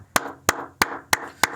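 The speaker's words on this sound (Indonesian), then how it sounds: "kita tepuk tangan bersama dulu yuk" Five evenly spaced hand claps in a quick steady rhythm, sharp and close, with nothing else heard.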